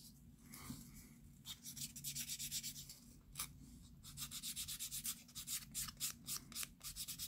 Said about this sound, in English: I'm just going to rough it up a little bit.